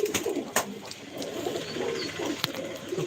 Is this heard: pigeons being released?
yes